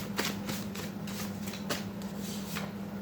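A deck of tarot cards being shuffled close by, with a steady run of soft riffling flicks and rustles for about three seconds, quiet and without speech.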